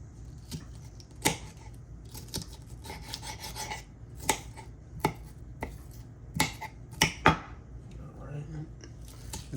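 A knife rasps back and forth through crisp peppers in short, uneven sawing strokes, close by, with sharp scraping bursts against a cutting board.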